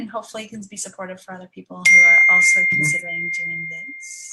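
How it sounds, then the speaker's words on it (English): An electronic beep cuts in as a steady, fairly loud tone lasting about a second, then fades lower while a person keeps talking over it during an online talk on platonic touch as a healing practice. "And sorry for the beeping."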